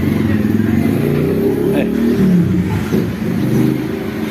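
A Honda Fan 125 motorcycle with an engine fault runs loud and close at a steady rumbling idle with slight revving, with faint voices in the background.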